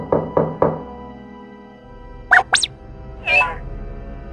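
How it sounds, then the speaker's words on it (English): Three quick, hollow knocks on a door ring out near and clear, followed after a pause by a few short electronic chirps and beeps from an R2-D2 figure. "I better knock, I suppose."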